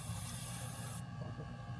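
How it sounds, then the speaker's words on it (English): Lubricant sprayed from an aerosol can onto the screw of a Keystone Montana fifth-wheel RV's landing gear, a close, steady hiss that cuts off abruptly about halfway, followed by a faint low hum. "We're going to spray this down in there."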